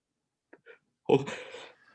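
A short intake of breath followed by a single sharp, forceful sneeze, close and clear in an otherwise quiet room.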